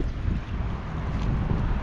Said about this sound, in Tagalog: Napangay talaga siya ng hangin. Malakas yung hangin.